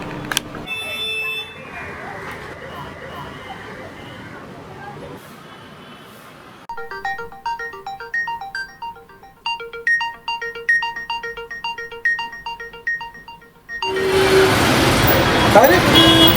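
An early-morning mobile phone ringtone plays a repeating melodic chime pattern loudly in a home for several seconds, after a stretch of quieter room sound, before a louder burst of noise.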